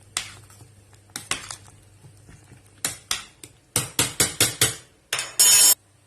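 Pasta stirred in a pot, heard as a series of close, sharp metallic clinks and knocks from a utensil against the pot, quickening into rapid strokes, with quiet gaps between.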